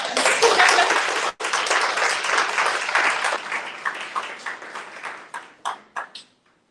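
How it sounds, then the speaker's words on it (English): An audience at an eco-literature reading claps for the speakers returning to a small semicircle stage, a full burst of applause that thins into a few scattered claps before stopping. "Let's give them a round of applause."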